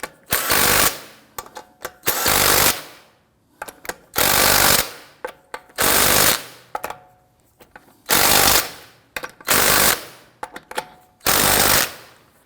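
Impact wrench snugging lug nuts onto a Volvo S60 wheel, working in a crisscross pattern: eight loud, sustained bursts of hammering rattle, each about a second long, separated by short pauses.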